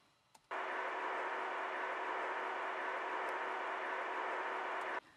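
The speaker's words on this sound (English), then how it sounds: "I added some more noise to make it sound more like it's coming from a radio" Steady band-limited static hiss layered in as a radio or police-scanner effect, starting abruptly after a faint click and holding even and loud for about four and a half seconds before cutting off, with no voice.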